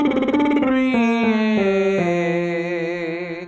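A lip trill singing exercise descends step by step on the A vowel, each buzzing sustained pitch dropping lower in a clear stepwise scale, a single close voice alone.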